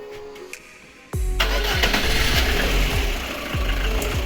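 A VAZ 2109 engine running on gas cranks and catches after a quiet moment, then settles into a loud, steady rumble with a regular pulsing beat.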